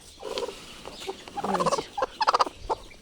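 Desi hen brooding on eggs, giving close, irregular clucks and low grumbling calls in short bursts, fairly loud with no talking.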